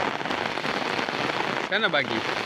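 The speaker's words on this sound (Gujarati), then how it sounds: "જો વરસાદ ચાલુ જ" Steady rain falls across a village in Gujarat, a dense, even patter on surfaces filling the whole stretch, with a voice briefly speaking over it near the end.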